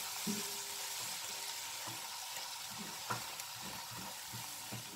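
Food sizzles steadily in a frying pan while a spoon stirs and scrapes through it, leaving soft irregular clicks and knocks over the continuous close frying hiss, no voices.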